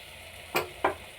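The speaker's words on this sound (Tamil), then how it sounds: "ஒரு தக்காளி, ஒரு வெங்காயம் பேஸ்ட்டை அரைச்சி சேர்த்ததை வந்து நல்லா மிக்ஸ் பண்ணிட்டோம்." A ground tomato and onion paste is stirred into frying mutton kurma, giving two quick scraping stirs over a faint background sizzle.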